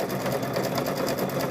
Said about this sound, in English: So just sew it all the way around.